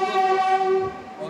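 Jammu Tawi Express pulling out of Bardhaman station, a steady tonal horn-like drone with layered harmonics sustained over rolling rail noise, close and fairly loud, easing slightly toward the end.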